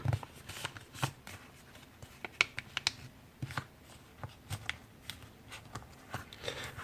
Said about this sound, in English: And then I repeat the same fold for the other side.